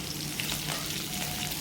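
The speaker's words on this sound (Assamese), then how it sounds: "চৰু তেল গৰম কৰি মই পিঁয়াজ আৰু জলকীয়া দিছোঁ তাতে।" Onions and green chillies frying in hot mustard oil: a dense, even sizzle fills the whole short moment at close range, loud and steady, with no voices.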